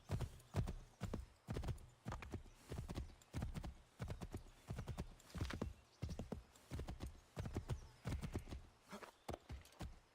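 Rhythmic hoofbeats of a galloping horse in the video game Assassin's Creed III pound steadily throughout, with an occasional whinny, loud and close, no talking.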